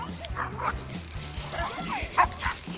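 A dog yips and barks in short bursts during a heated roadside confrontation, close by and fairly loud, with people shouting around it.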